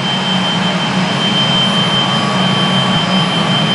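An automatic L sealer combined with a shrink tunnel runs with a loud, continuous mechanical drone and a fan-like rush, holding steady and near with faint tonal whines and no speech.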